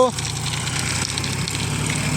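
A steady, low tractor engine rumble idles throughout, even and continuous, with no sign of anyone talking.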